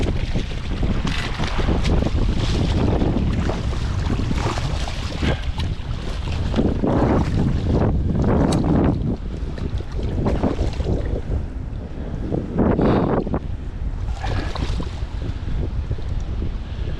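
Wind buffeting the microphone on open water from a fishing boat, a loud continuous rumbling roar that swells and eases in gusts, with faint lapping water beneath and no talking.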